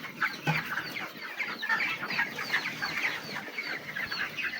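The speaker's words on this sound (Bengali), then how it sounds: "এখানে কিন্তু সুস্থ মুরগি" Broiler chickens in a farm shed cluck and chatter continuously, many birds at once, a dense flock sound with no speech.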